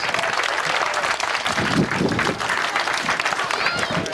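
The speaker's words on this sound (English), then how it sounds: "Give yourselves a round of applause." A crowd at an outdoor gathering for a youth summer games run gives a dense, sustained round of applause, loud and continuous, with voices mixed in.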